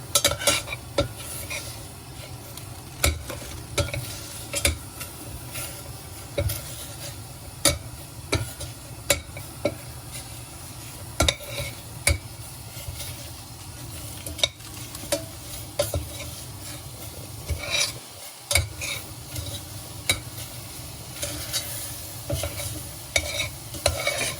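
A frog and fish curry with phak phraeo is stirred in a sizzling pan, the utensil scraping and clinking in a steady rhythm over constant frying, up close.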